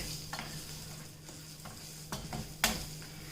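Sesame seeds and spices sauteing in a pan for a gunpowder curry-leaf spice powder, a soft, steady sizzle with occasional light stirring scrapes and one sharper clink near the end.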